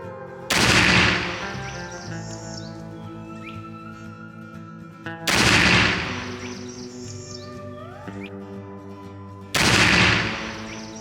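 Three loud, separate shotgun blasts from a Pedersoli black powder double-barrel shotgun, each a sharp close boom with a long ringing decay, spaced about four to five seconds apart.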